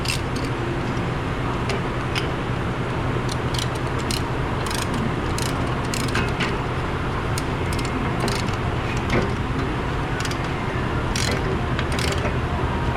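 A dense mechanical clicking and grinding plays steadily at close range while a brake caliper piston is pressed back on a car with a vibration-when-braking fault, with no pauses.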